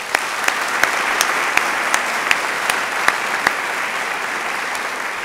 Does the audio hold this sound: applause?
yes